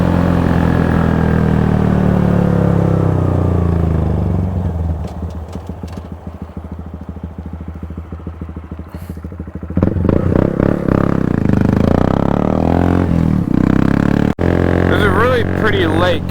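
A 2018 Honda Grom motorcycle engine runs steadily and loud, with a steady throttle hum that eases into a quieter patch and then swells again toward the end.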